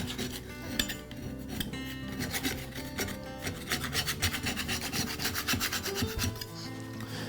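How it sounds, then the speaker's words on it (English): Metal scraper rubbing grass buildup off a lawn mower blade, producing continuous close, gritty scraping strokes in a quick, steady rhythm. "I'll start by using a scraper to clean the grass buildup off of the blade."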